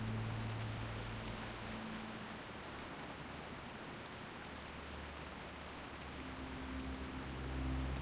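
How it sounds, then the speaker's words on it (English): Heavy rain falls steadily in World of Warcraft, a continuous broadband hiss of downpour holding at an even, moderate level throughout, with a low rumble and faint tonal hums beneath and no talking. "We haven't seen rain like this since Feralis."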